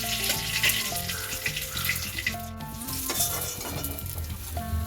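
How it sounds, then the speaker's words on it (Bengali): Pieces of katla fish fry in hot oil in a pan, giving a close, continuous sizzle with soft stirring and watery splashes, over faint steady tones in the background. "মাছগুলো আমার সব গোলটানো হয়ে গেল, আমি এগুলো ভালো করে ভেজে নেব"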